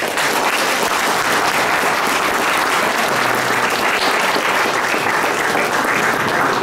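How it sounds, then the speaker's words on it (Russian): Steady, loud audience applause at a concert honoring a poet and soldier, a dense wash of clapping that fills the whole stretch without any voices over it. "Еще раз аплодисменты Александру Карпенко"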